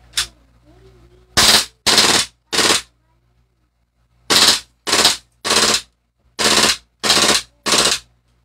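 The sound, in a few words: gun firing during review test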